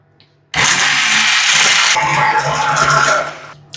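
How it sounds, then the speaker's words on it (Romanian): A blender switches on abruptly and whirs loudly for about three seconds, pitch shifting midway as the frozen cherries break up, then cuts off. "Le voi face cu blenderul și le las să fiarbă foarte bine"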